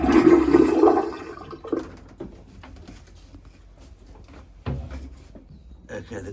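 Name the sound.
bidet on a sailboat being flushed with water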